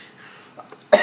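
One sharp, loud cough bursts out at the end after a couple of faint throat sounds, close to the microphone and with no speech around it.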